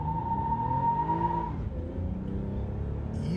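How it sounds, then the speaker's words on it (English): A 2018 Toyota Camry XSE launches hard in sport mode with traction control off, its engine droning with a rising whine as the tires spin, then the note drops and settles. "that was a heck of a lot of wheel spin"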